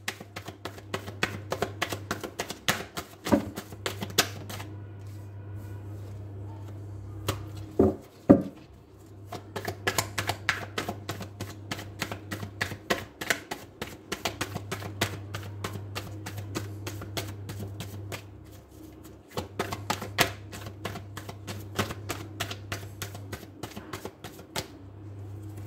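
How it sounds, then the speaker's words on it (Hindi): Tarot cards being handled and picked during a Hindi-language reading, giving a dense run of quick crisp taps and riffles over a steady low hum, with a few short pauses and no talking. "चलिए अब कार्ड पिक करेंगे हम।"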